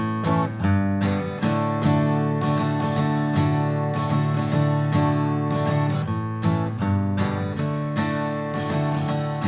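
Acoustic guitar strumming the chords of a song, with a down strum in place of the first bass strum, a steady rhythmic pattern of full close strums played alone for the whole stretch.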